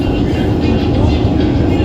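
Inside a Milan metro train, a loud, steady low rumble of the moving carriage fills the space, constant and close.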